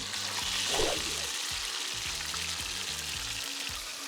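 Steady, crackling sizzle of galunggong fish deep frying in hot oil, continuous and close, with no talking.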